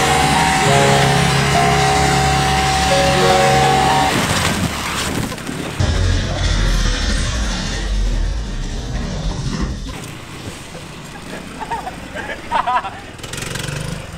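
A gas-powered VW minibus Power Wheels ride-on toy, its small engine droning loudly with a steady hum, then rough rumbling and splashing as it drives through a liquid, engine fading lower toward the end.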